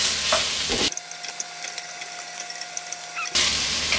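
Onions fry in a pan for pancit canton, a loud steady sizzle that cuts in suddenly and drops away near the end, with no voices.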